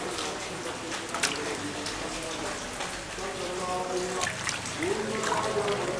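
Potato slices for homemade chips are dropped and stirred into salted water, giving a soft, continuous watery splashing and trickling, faint and close, with light spattering throughout.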